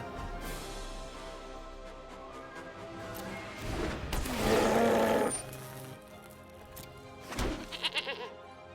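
A goat bleat sounds from the Billy Goat Scruff card in Magic: The Gathering Arena: one loud drawn-out bleat in the middle, a shorter bleat just after, over game music with no talk.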